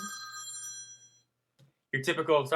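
A BlackBerry Storm phone rings with a bright, electronic trill that fades out after about a second, followed by a brief pause and then someone talking close by.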